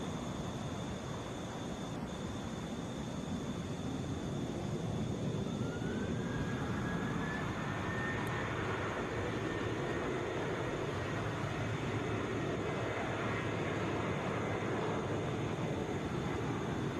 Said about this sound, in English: Delta 807 headed for Santa Ana, Boeing 757.